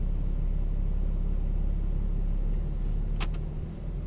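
Low, steady engine rumble from a commercial truck with a ZF PowerLine automatic transmission idling as it rolls slowly backward, a constant drone with a brief faint high squeak near the end.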